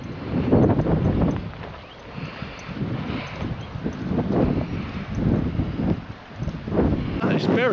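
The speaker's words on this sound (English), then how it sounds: "It's very windy now, isn't it?" Strong wind gusts roar across the microphone on a coastal railway walk at Teignmouth in August, a steady buffeting rumble that rises and falls while people talk throughout.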